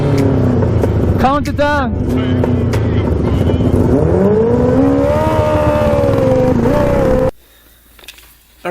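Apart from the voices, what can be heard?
500cc and 550cc shifter kart engines racing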